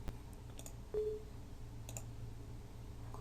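Computer mouse clicks come through as a few sharp, quiet, isolated ticks spread over a few seconds, with a brief tone partway through, while setting up XAMPP on a computer. A faint low hum runs steadily underneath.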